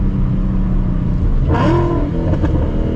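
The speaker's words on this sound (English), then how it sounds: "Just listen to that though. Those downshifts." Stage 3 tuned Roush Mustang V8 echoing through a tunnel, a steady loud rumble broken by sharp downshift blips and crackles near the end of the short burst.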